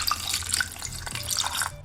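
Water pours steadily into a pan of raspberry syrup ingredients with cinnamon stick and sea salt, a continuous close splashing, trickling stream lasting about two seconds with no talking.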